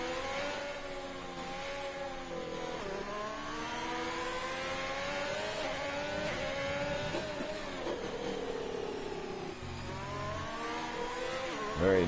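Race car engine in a sim racing game at a Brazil circuit, revving continuously through the middle sector and its hard braking zones, with pitch rising and falling over gear changes and a tyre squeal near the end.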